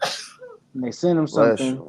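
A single sharp sneeze bursts out at the very start, followed right away by someone talking in a relaxed conversation.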